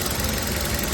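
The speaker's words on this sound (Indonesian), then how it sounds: "ini adalah suara mesin Kia Rio ini dalam keadaan dinyalakan" A 2012 Kia Rio with manual transmission and low mileage idles close by, its engine giving a steady, dense rumble with a slight knocking texture that holds even for a full second, with no voices.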